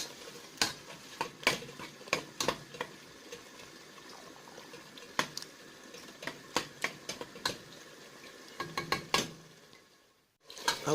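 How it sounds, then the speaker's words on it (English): A spoon stirs jollof sauce in a pot with repeated sharp scrapes and clinks, irregular and fairly close, over a low simmering hiss, and the sound breaks off briefly near the end. "Stir to combine."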